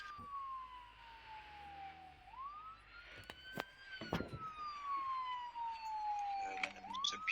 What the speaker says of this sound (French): Tu peux couper les sirènes, s'il te plaît